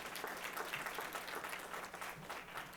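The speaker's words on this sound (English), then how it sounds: "Give yourselves a big round of applause for that" An audience at a mayor's small business conference gives a continuous round of applause. Many hands clap in a dense, steady wash that sounds fairly distant and soft.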